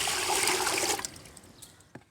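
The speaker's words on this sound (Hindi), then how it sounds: "इसमें पानी डाल देंगे पहले" Water poured into a pot for a five-litre batch of watermelon drink, a steady splashing stream for about a second that then tapers into faint trickles and drips.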